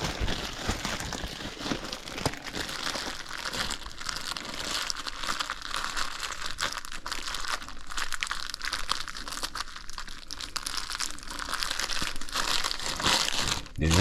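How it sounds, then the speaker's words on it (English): Plastic bag crinkling steadily and close up for about fourteen seconds as air is squeezed out around a raw whole chicken, a dense continuous rustle with no talk. "Get a large enough plastic bag."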